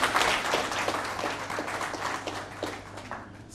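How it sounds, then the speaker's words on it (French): Applause at a launch ceremony for a French-language digital information campaign, honoring a performing troupe; a fairly faint, scattered patter of hands clapping throughout with some irregular louder claps, recorded at a distance in a hall. "Merci à la troupe Tozo que je voudrais nous prier d'applaudir encore une fois."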